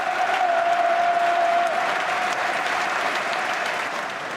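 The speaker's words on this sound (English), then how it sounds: "crowds across the country clapped." A football stadium crowd claps together, a broad, loud, dense roar of applause from thousands that stays even before easing slightly at the close.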